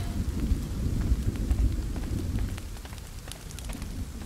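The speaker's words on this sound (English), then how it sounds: "Why is it raining inside my cabin?" Steady rain in The Forest falls on a cabin roof, a continuous dense patter with a low rumbling undertone, fairly loud and unbroken throughout.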